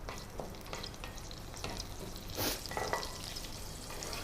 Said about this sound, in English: bay leaves, and the curry leaves. Let it splutter.